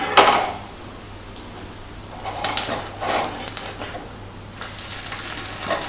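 A banana pancake fries in a hot pan with a steady soft sizzle, broken by a few scraping clinks of a spatula as it is turned over.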